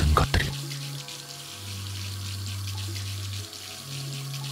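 Rusty water runs steadily from a bathroom tap in a dark home, a continuous close hiss with a low hum underneath, preceded by a brief knock at the start.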